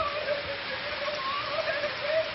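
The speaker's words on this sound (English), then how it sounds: "look at the rain." Steady rain falling outdoors, a dense continuous hiss with a faint voice now and then underneath.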